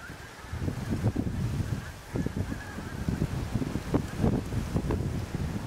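Geese honk repeatedly from a field beyond a hedgerow, a busy overlapping chorus of calls close by, with wind buffeting and rustling underneath.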